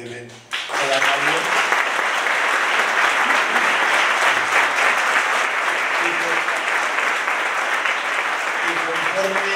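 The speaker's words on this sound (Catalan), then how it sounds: "Demano un gran aplaudiment per a Mario." Concert audience at a tribute to a dolçaina player in Benicarló breaks into loud, sustained applause for a performer, starting sharply after a brief voice and continuing as even, dense clapping.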